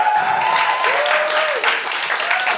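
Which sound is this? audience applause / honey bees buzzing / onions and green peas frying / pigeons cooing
audience applause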